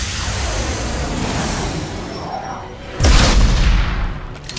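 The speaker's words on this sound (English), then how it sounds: "Firing a high-impact shot!" Gunfire in Mass Effect 2, with a heavy high-impact shot erupting as a loud, booming burst midway through and fading over a steady rumble of combat noise.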